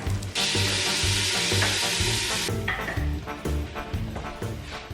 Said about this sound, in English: I burned my onions